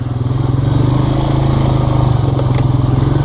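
A Honda Rancher four-wheeler ATV engine idles with a loud, close, steady throbbing putter throughout, no voices.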